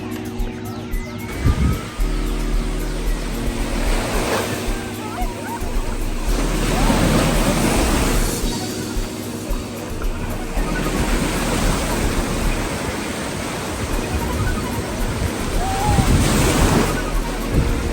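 Ocean surf rolls in at a Cape Town beach on a windy day, with broad washes of breaking waves building and fading every few seconds under steady wind rumble across the microphone.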